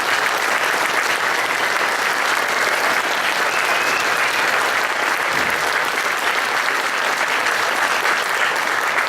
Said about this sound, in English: give Dr. Young another round of applause for what he's done